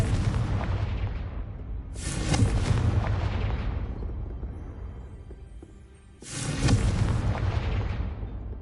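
Two loud, booming explosions from the Confringo fire spell in the Hogwarts Legacy video game, several seconds apart, each with a long rumbling decay and no talking.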